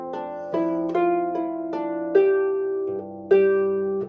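A harp plays a short jig ending phrase of about seven notes, each ringing on, with the last notes sustained, clear and close.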